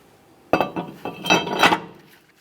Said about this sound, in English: Let's take this brake rotor and put it in place, aligning all 5 of our stud holes and our mounting bolt hole.